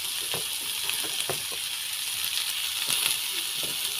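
Potatoes frying in a hot pan give a steady bright sizzle, broken by soft scattered pops and occasional stirring clicks, close and moderately loud with no voices.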